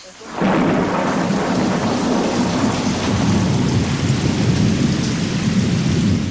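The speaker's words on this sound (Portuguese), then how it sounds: "A chuva começa a cair." Heavy rain pours down in a forest where parrots roost, with deep rumbling thunder rolling under the steady hiss of the downpour, close and constant throughout.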